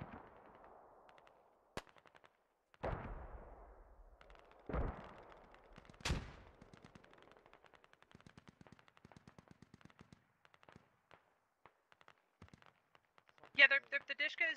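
Gunfire in the tactical shooter Squad, a few sharp separate shots and later a rapid burst, heard between stretches of radio-style voice chatter.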